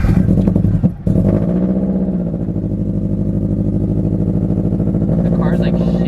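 A 2022 Subaru BRZ with a cylinder 3 misfire and an aftermarket exhaust idles roughly, a loud low drone with an uneven, lumpy pulse heard close from inside the car, while someone talks over it.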